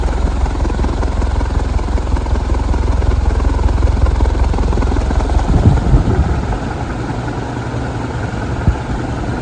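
A Heritage 56-inch four-blade industrial ceiling fan runs steadily nearby, giving a loud, constant whooshing whir with a low rhythmic blade throb. A brief thump or bump is heard partway through.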